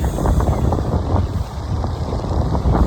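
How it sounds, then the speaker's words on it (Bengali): A cool sea breeze blows at Digha beach, buffeting the microphone with a loud, continuous gusty rumble. It swells and dips over a few seconds with no voices. "এই যে ঠান্ডা হাওয়াটা এটাই চাই"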